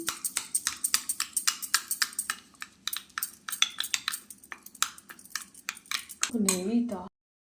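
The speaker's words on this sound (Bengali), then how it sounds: "এবার দিয়ে দেব আমি এক কাপ জল এটাকে ভালোভাবে ফেটিয়ে নিচ্ছি" Whisk or spoon rapidly beating a batter of semolina, salt and water in a bowl for pitha, quick rhythmic clinks against the dish, close and crisp, ending with a brief stretch of a voice.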